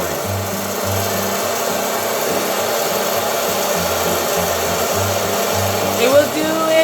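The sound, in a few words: hot air popcorn popper spinning dried corn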